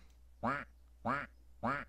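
A Minecraft duck texture pack's duck quacks three times, evenly spaced, each quack loud, nasal and close, with quiet gaps between.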